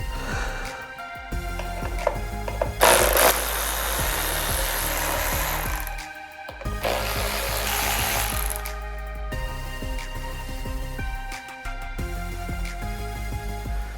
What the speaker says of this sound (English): undoing the Torx 30s on the side